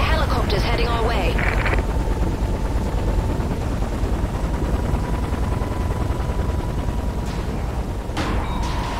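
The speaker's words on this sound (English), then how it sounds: "I can hear helicopters heading our way." In the video game Singularity, helicopters approach amid a dense, continuous roar of rotor wash, wind and gunfire-like bursts, with a voice briefly heard near the start.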